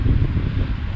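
Steady wind gusting and buffeting the microphone on a mountain ridge on Arran, a low rumbling roar that swells and dips throughout without pause.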